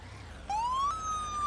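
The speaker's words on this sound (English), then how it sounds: "Let's load him up and let's go lights and siren." An ambulance siren in the video game Into the Flames switches on abruptly after a brief quiet moment, a loud, clean electronic tone that rises and then holds steady.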